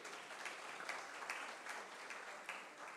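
Audience applause at a Karachi Literature Festival 2023 session on Pakistan's economy: a dense, steady wash of many hands clapping for about three seconds, with no voices over it.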